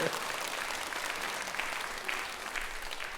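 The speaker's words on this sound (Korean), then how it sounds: "박수를 치실 거면 다 치시는 게 좋아요" An audience in a Korean church service breaks into applause, a dense burst of clapping that carries on steadily for a few seconds, fairly close and with no talking over it.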